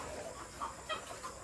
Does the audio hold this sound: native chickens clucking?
yes